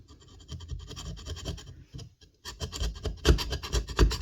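Scraping with a Makita scraper attachment, a pointed chisel-like tip worked against a rough surface, making repeated close rasping strokes that pause briefly and then return louder and more rhythmic.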